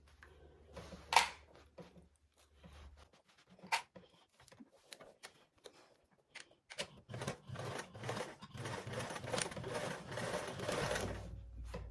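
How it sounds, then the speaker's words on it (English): A sewing machine stitching down both sides of a piece of fabric, running in short stop-start bursts at first, then in a longer, steady run near the end, faint and close. "We are going to go ahead and sew down both of these sides with a 3/8 seam allowance."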